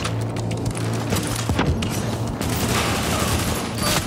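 Sustained gunfire in The Division online shooter, dense bursts of rapid shots with booming low thumps and mechanical clatter, loud and continuous over the whole stretch, no talk.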